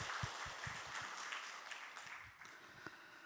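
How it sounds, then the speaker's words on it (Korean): A church congregation applauds the Hosanna choir after a hymn at a Sunday worship service, a soft, fairly distant patter of clapping with a few sharper individual claps standing out. "호산나 성가대원을 위해서 다시 한번 큰 박수로 격려"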